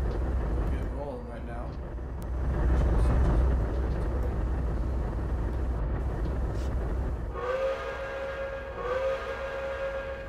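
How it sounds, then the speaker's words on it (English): A GG1 electric locomotive in Trainz Simulator 2012 rolls along with a continuous rumbling rail drone, swelling midway, then tonal horn-like whines rise over it near the end, with no speech. "they actually updated their new sounds. So I quite like the GG1 sounds now"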